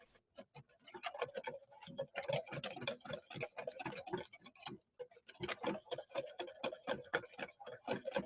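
A whisk beats sauce in a bowl in quick, rhythmic metallic ticks, close and fairly faint, with one brief pause partway through.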